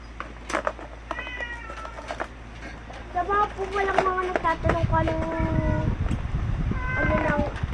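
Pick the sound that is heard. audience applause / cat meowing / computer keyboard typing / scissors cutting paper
cat meowing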